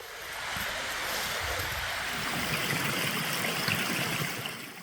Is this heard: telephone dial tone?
no